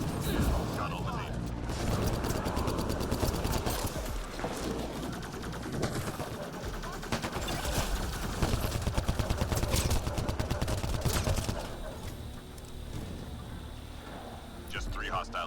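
Sustained gunfire in Mass Effect Andromeda multiplayer combat, rapid automatic bursts and heavier shots clattering loudly over game effects, with voices talking over the action.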